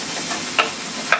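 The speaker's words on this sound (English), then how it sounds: "Kind of stir this up here to absorb the heat from this pan." Garlic is stirred with a wooden spoon in a hot pan while cooking garlic mushroom pork chops, giving a steady close sizzle with two quick scraping clicks of the spoon.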